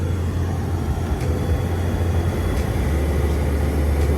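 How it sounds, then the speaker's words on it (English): Air conditioning blower motor fan in a Land Rover LR3 (Discovery 3) blowing steadily, a continuous broadband whoosh over a low engine hum, even and unbroken from start to finish. "Oh, we're getting blowing air. You can hear the fan blowing."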